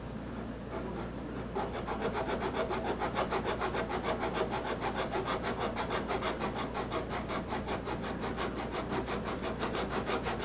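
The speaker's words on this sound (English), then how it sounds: "So I'm just gonna take a little bit off the heel end" A chisel pares wood from the heel of a Martin 00-style acoustic guitar neck in the workshop, a fast, even run of close rasping strokes that keeps going without pause and with no talk.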